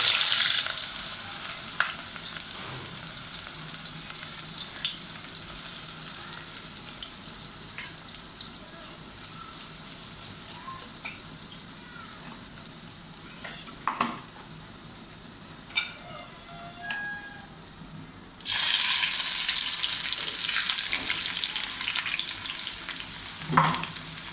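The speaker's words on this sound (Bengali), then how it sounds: "প্রথমে আমি পাতিলের ভিতরে তেল দিয়েছি। এখন দেবো পেঁয়াজ কুচি।" Chopped onion hisses and sizzles loudly in hot oil in a cooking pot, a continuous crackling fry with occasional stirring knocks, briefly quieter midway before the sizzle surges back.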